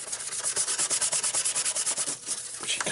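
Rapid rhythmic scrubbing of a toothbrush over radio parts coated in heavy duty citrus degreaser, cleaning a Grundig Yacht Boy 210 radio; steady close back-and-forth bristle strokes with a brief pause near the end.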